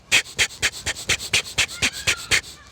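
Rapid, forceful explosive breathing of a Systema practice, about a dozen sharp nasal bursts in quick regular rhythm, close and loud, hyperventilating without any talk.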